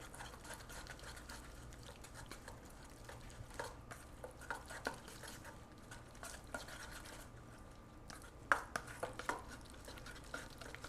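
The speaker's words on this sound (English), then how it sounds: "We're going to stir it up" Lemon juice is stirred into a herb sauce like salsa verde in a bowl, with faint, steady scraping and light clinks of the utensil against the dish running throughout, quiet and close, with no talk.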